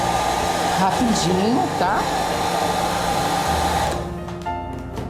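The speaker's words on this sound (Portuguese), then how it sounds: "Você vem com o secador, seca" A hair dryer blows steadily and loudly at close range, drying stencil paint on a floral towel, with someone speaking briefly over the whir before the dryer cuts off near the end.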